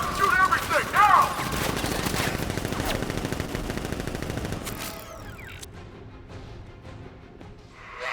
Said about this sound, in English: Open fire! Shoot everything, now!